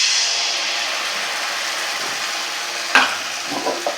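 Rice-flour batter for chitoi pitha sizzles in a hot, oiled pan in a village kitchen: a continuous, close bright hiss, broken near the end by a sharp clack and a few lighter knocks.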